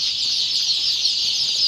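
Many local chicks and Indian Runner ducklings crowded together in a stock warehouse, a continuous dense chorus of high-pitched peeping that stays steady and loud throughout, with no talking.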